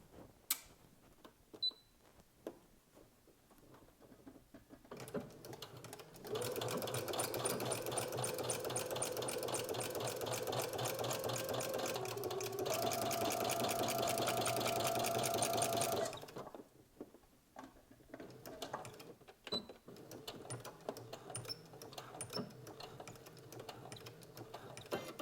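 A sewing machine stitches stabilizer onto the back shoulder seam of a beginner knit dress in two steady runs of rapid, even needle clatter, separated by a brief pause. Quieter handling clicks come before and after the runs.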